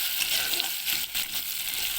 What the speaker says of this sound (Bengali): তেল গরম হয়ে গেছে, এবারে কেটে রাখা পেঁয়াজগুলো আমরা দিয়ে দেবো।